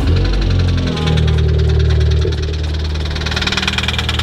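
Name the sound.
engine rod knock in a 2016 Volkswagen Golf R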